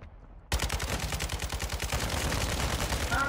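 Rapid automatic gunfire in a multiplayer shooter game, a dense stream of close, loud shots that starts abruptly after a short quiet moment and keeps on steadily with no talk over it.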